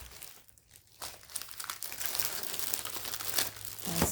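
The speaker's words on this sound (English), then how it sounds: "I'm going to be wrapping one in cellophane, so you'll see what that's like." Cellophane crinkles and rustles close by while an Easter basket is wrapped, the crackling starting lightly and building into a steady, busy crumpling that grows louder toward the end.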